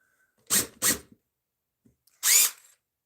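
Two short bursts of a power drill whirring with nothing in the chuck, a brief pause, then a third longer whir, close and loud.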